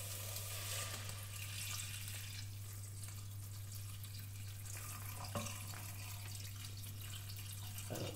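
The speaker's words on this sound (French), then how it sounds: "Je vais mettre de l'eau." Water pouring steadily into a pan for a beef pho broth with ginger and coriander, a continuous faint trickling and splashing with a low hum underneath.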